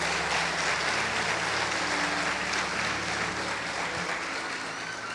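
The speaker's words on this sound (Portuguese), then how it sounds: "Você pode aplaudir o Senhor." A church congregation at a celebration service claps steadily and densely for several seconds, a broad even roar of applause with no pause.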